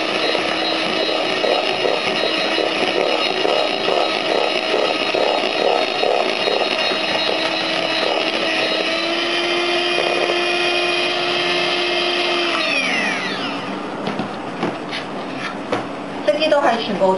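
An electric mixer beats gingerbread batter in a bowl with a loud, steady whirring drone that holds for about thirteen seconds and then winds down, ending in a few clatters.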